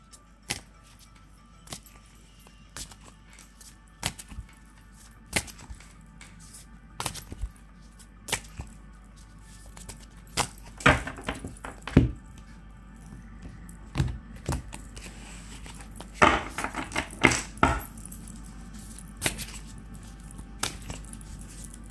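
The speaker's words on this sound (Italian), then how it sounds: "inizio appunto a mescolare il mazzo con appunto il metodo delle quattro carte." A deck of cards shuffled by hand using a four-card method: soft papery clicks and riffling snaps, sparse at first, then denser bursts of shuffling toward the middle and end, close and fairly quiet with no voices.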